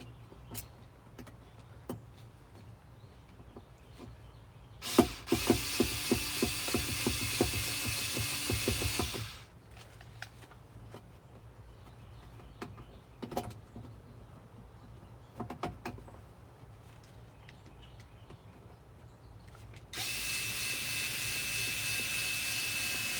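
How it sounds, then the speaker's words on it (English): An electric screwdriver drives screws in two long, loud bursts of whirring and ratcheting with short clicks between them, close by and with no talking. "I'm going to get an electric screwdriver."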